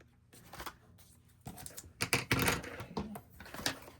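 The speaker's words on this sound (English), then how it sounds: "And then I'll trim that off." A paper scrap is trimmed for an ephemera craft piece, giving a few soft close snips and rustling scrapes in quiet surroundings, irregular and light, growing busier toward the end.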